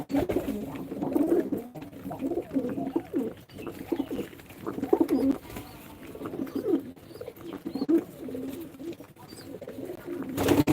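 Pigeons, including Giribaz and racing pigeons, coo continuously in soft, throaty, overlapping rolls, close by, with occasional faint chirps.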